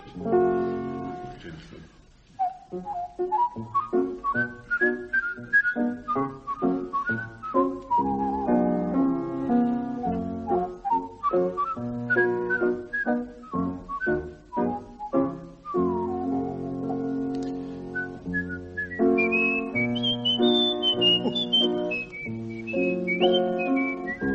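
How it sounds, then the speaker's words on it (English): A man whistles Dvořák's Humoresque as a solo melody, bright and close, with a lilting tune of fluttering runs and held high notes that goes on for over twenty seconds. "whose light-heartedness and temporary throat trouble leads him not to sing but to whistle. Dvorak's Humoresque."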